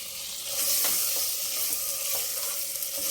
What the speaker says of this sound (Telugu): ఆ టమాటాలు వేసి కొంచెం వేగినాక పచ్చిమిర్చి వేసుకోవాలి